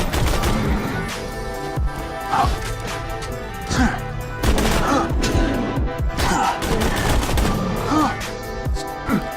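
Rapid video-game gunfire fills the scene in bursts of repeated sharp shots and impacts, steady and dense over several seconds.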